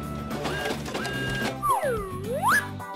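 A printer prints out a letter in an animated scene. It makes a rhythmic, tonal mechanical whirring for about a second and a half, then sweeping rising and falling whine-like tones follow.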